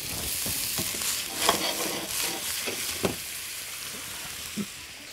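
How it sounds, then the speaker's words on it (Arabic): Beef bacon fries in butter in a pan with a continuous close sizzle and crackle, punctuated by a few soft stirring knocks and scrapes, fairly loud, with no talking. "عايز احمر البيف بيكون ده"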